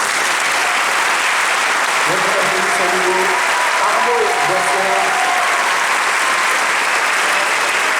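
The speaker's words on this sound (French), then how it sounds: "il mérite votre respect et surtout vos applaudissements" Sustained audience applause fills the hall at the Vendée Globe 2016-2017 prize ceremony, steady and loud from start to finish, with a faint voice briefly audible beneath it.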